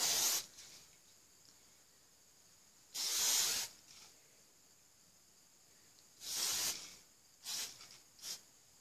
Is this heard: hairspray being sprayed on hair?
yes